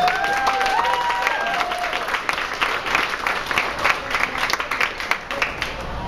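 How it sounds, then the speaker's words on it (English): A crowd of young Democrats at an evening political rally in Arlington breaks into a dense, loud round of applause that holds steady throughout, with a brief whistle-like cheer early on and scattered crowd noise mixed in. "Give them another great round of applause."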